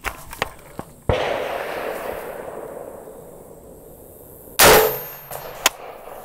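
A Colt Dissipator rifle fires at targets outdoors: two sharp, loud shots, each trailed by a decaying echo, with a few faint clicks and knocks in between.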